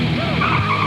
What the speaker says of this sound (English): RC cars from Radio Shack. 24 hot models ready to test drive.